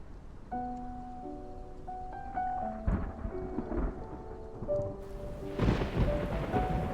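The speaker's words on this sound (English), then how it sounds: "It's raining! Let's head inside." Thunder rumbles with steady rain in a video game scene, under soft sustained musical tones, with a louder crack of thunder near the end.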